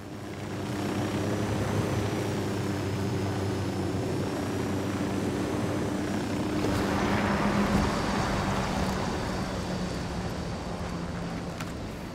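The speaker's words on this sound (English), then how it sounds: "Drone is airborne." A surveillance drone in the game Ghost Recon Wildlands hovers with a steady, loud whirring buzz that drones on without a break, layered over a broad rushing ambience.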